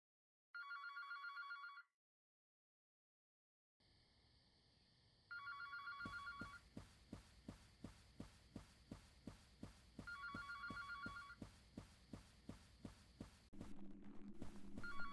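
A video game telephone rings in repeated electronic bursts, first alone and then over a rhythmic throbbing pulse that beats steadily beneath further rings, with a low hum near the end.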